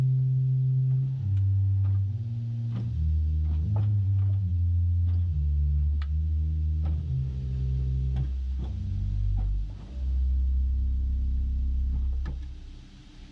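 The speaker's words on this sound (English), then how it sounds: "First of all, we have the open diapason 16-foot." A wooden 16-foot open diapason pedal stop on a pipe organ plays a slow sequence of very low sustained notes, a deep diffuse rumble stepping through a bass line with faint clicks of the action between notes.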